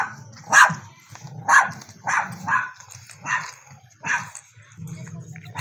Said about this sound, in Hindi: तो देखें ये हमके ऊपर ना भौंक रहा है।